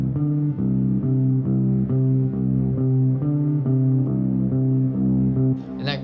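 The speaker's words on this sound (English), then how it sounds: "I automated a filter so it kind of grows in energy throughout the intro." A song intro with a slow automated filter sweep, repeating low synth chords pulsing in a steady rhythm as the muffled sound gradually opens and grows in energy, loud and close, with a brief bright noise at the end.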